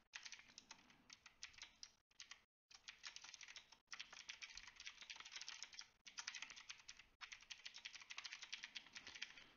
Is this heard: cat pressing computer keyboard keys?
yes